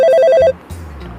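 A phone rings loudly and close by with a quick warbling electronic trill that stops abruptly after about half a second, followed by low room hum.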